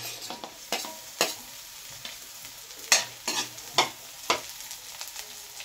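Ginger and garlic sautéing in a pan, sharp spatula scrapes and taps recurring irregularly over a quiet background sizzle, close by with no voices.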